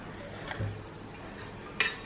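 A stainless steel pressure cooker with a sandwich bottom being handled in a kitchen, giving faint soft knocks and a brief sharp metallic clink near the end, close and quiet.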